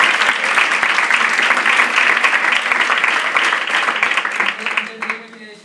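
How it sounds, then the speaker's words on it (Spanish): University lecture audience applauds with dense, sustained clapping that fades out near the end, with a voice speaking faintly over it. "Pues te volvemos a dar un aplauso"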